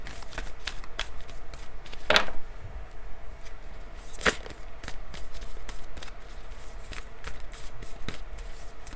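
Large cards shuffled by hand, with repeated crisp slaps and riffles at an uneven pace and a couple of louder bursts, close up.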